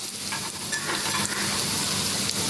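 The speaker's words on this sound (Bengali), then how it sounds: "রসুনটাকে ভেজে নেব" Chopped garlic frying in oil for achari dal, a dense, loud, steady sizzle filling the whole stretch with occasional stirring scrapes.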